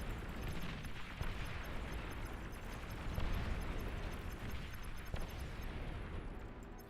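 Rocket explosions in the real-time strategy game Beyond All Reason, a dense, continuous rumble of overlapping blasts and booms with a few sharper bursts standing out, loud and without speech.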